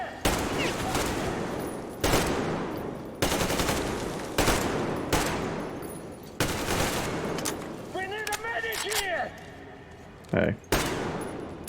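Repeated bursts of automatic AK rifle fire in the shooter game Metro Exodus, loud and close, with short gaps between bursts, a brief whirring in-game sound, and a voice speaking briefly once.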